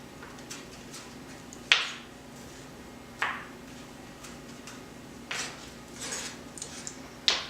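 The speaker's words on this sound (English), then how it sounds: "Just gonna go to mincing it." Knife mincing food on a cutting board, with a few sharp, separate chops spaced over several seconds against quiet room noise.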